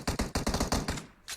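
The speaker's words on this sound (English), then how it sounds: "Bullets firing." Rapid automatic gunfire in the PUBG Mobile video game: a burst of about eight fast, loud shots in close succession, then a short pause and one more shot.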